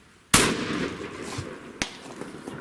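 A single sharp, loud report from an AEA HP SS Max .35 caliber high-powered airgun pistol, followed by a brief echo tail and a smaller second knock; no talking.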